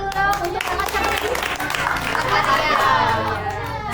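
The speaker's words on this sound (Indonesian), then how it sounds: "Tepuk tangan dulu dong untuk kakak cantik." An audience claps for a young woman guest at a charity gathering in an Indonesian orphanage, with children shouting and cheering loudly over steady applause throughout.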